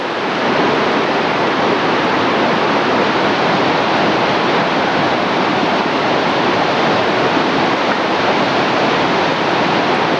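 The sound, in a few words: waterfall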